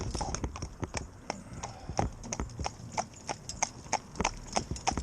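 A Morgan horse trots with a steady, fairly close clip-clop of hooves on a hard surface, the even rhythmic beats continuing throughout with no talk.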